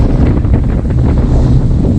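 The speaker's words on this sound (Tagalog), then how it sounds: "Kasi lakas ng hangin." Strong, cold wind by a lake buffeting the microphone, a loud, continuous low rumble with gusty fluctuations throughout.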